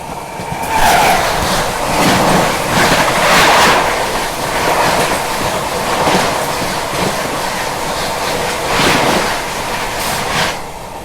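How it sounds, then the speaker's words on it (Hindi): The North East Express passes close by at speed, a loud, sustained rumbling roar with rhythmic clatter of wheels over rail joints throughout. "देखिए अब बारी है सामने से नॉर्थ ईस्ट एक्सप्रेस के आने की।"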